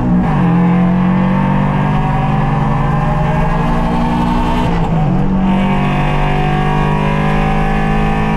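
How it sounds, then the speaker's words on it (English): A car accelerates hard on the Homestead race track, its exhaust note a loud, continuous drone that climbs steadily with revs, with a brief dip near the middle, likely a gear shift, before pulling on. "you can hear the exhaust note come in"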